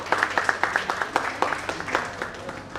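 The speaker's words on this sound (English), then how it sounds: "welcome him with a big round of applause" An audience at a rooftop solar conference for cooperative societies claps in welcome for a speaker, a steady run of close, rhythmic applause with no other talk.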